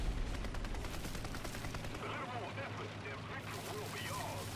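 Gunfire in the War Thunder tank game, fired around a BMP-1 near a building, as continuous dense bursts over low engine rumble, with talking mixed in.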